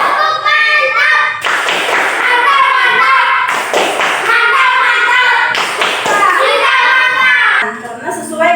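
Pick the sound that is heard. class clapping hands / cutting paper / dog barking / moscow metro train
class clapping hands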